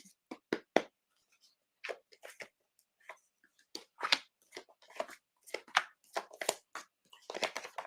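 A deck of cards being shuffled, a crisp series of close riffles and taps in irregular bursts with short pauses, no talking.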